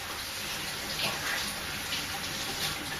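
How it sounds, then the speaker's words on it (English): Hands being washed under running tap water in a home kitchen while making a salad, a steady, fairly quiet splashing flow with no voices. "wash my hands again"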